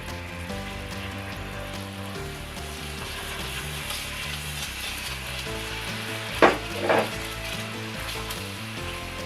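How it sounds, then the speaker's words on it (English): Butter and honey sizzling and melting in a cast iron pan, a continuous close crackling fry with two brief louder bursts of sputtering or stirring toward the end, no talking. "It'll melt down quick in the cast iron, so give it a stir."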